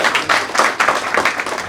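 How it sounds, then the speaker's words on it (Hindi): Audience applause at a Bhojpuri song success party: a short, steady burst of many hands clapping together, fairly loud and close throughout. "जब भी किसी की जुबान से एक शब्द सक्सेस निकले तो तालियां होनी चाहिए"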